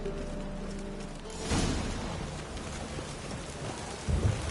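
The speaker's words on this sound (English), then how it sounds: "Rain, I like rain." Rain and rolling thunder in The Witcher 3 game world, a steady hiss of rainfall with a thunder rumble swelling near the middle and a lower thud near the end, no voices.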